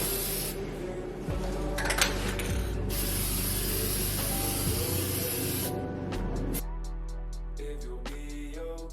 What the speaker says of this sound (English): I'm going in with the spray paint.